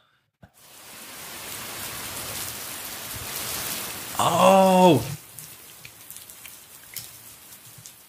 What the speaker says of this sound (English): It's a white noise app.